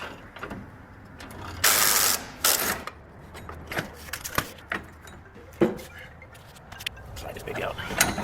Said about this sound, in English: Now we're going to back the coil compressor out.